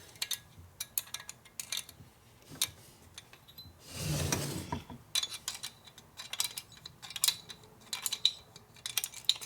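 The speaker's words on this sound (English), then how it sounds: "now we go ahead and torque these head bolts down" A hand wrench clicks and ratchets while torquing the head bolts on a 1972 Harley-Davidson FLH 98ci shovelhead stroker engine in a machine shop, with sharp intermittent ticks and a brief louder metallic burst midway.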